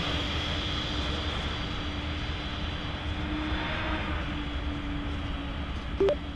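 Steady drone of a Pilatus PC-12 NGX turboprop engine in Microsoft Flight Simulator 2024, parked at Innsbruck before pushback, a constant loud hum with a faint tonal whine throughout and a brief click near the end.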